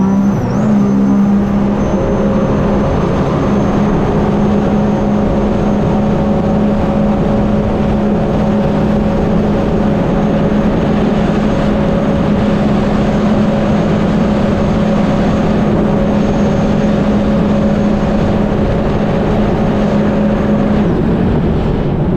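A 2022–2023 Sea-Doo personal watercraft with a boost leak roars at speed on the water, a loud, sustained engine drone with a steady tonal whine that holds throughout, with no talking over it.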